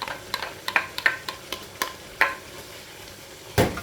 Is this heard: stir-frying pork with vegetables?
yes